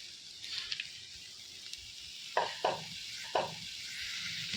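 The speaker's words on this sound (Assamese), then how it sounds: "এতিয়া কৰ্ণখিনি মই একেলগে লৰাই দিওঁ" Corn kernels sizzle while being stirred in a hot pan for a chicken salad, a steady frying hiss with a few sharp scraping knocks of the utensil near the middle.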